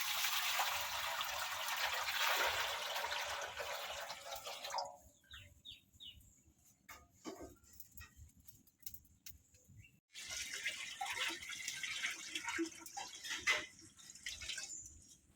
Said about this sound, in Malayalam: ഇതിലേക്ക് വെള്ളം ഒഴിക്കാം